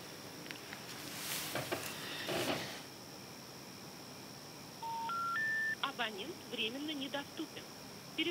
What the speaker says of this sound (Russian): Ну, давай попробуем позвонить еще раз ей.